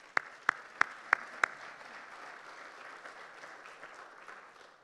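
At an education conference keynote, a few loud, evenly spaced claps ring out close by, five sharp hand claps in a row, then scattered faint applause trails off through a quiet room.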